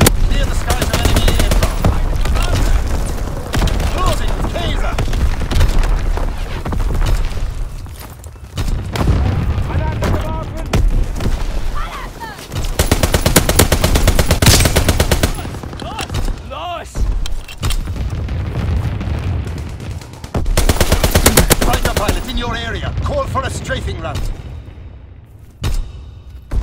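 Artillery and anti-aircraft gunfire in Call of Duty: WWII, a Domination match on the Shipment 1944 map: loud, dense bursts of booming cannon and rattling automatic fire, with game voice callouts mixed in.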